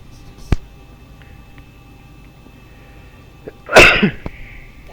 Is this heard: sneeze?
yes